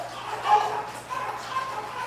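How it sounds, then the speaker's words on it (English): Household dogs, including a small one, bark and yip a few times indoors during a live stream, giving short mid-distance bursts with a voice talking over them. "I think the dogs just heard the noise, so they'll bark for a minute."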